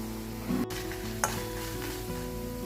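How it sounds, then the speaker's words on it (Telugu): Red chillies frying in oil alongside onions give a steady, fairly quiet sizzle, broken by a single sharp clink of a spoon or spatula against the pan, no talking. "రెడ్ చిల్లీస్ క్రిస్పీగా వచ్చే వరకు ఫ్రై చేసుకోవాలి."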